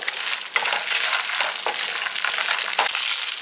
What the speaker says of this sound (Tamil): இப்போ வறுத்த நிலக்கடையை நம்ம போட்டுக்கலாம் ஒரு ரெண்டு நிமிஷம் சும்மா ரோஸ்ட் மட்டும் பண்ணிவிட்டு